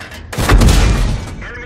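A tank's regular round fired in World of Tanks, a single loud boom that swells quickly and then rolls off into a fading rumble, close and heavy.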